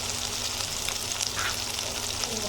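Ginger-garlic paste frying in oil in a pan, a steady, dense sizzle and crackle that holds evenly throughout at close range.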